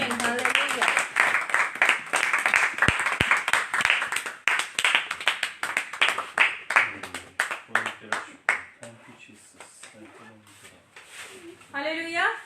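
Congregation at a church service clapping loudly and continuously, dense rhythmic claps mixed with voices and cheering, with a speaker talking over it near the end.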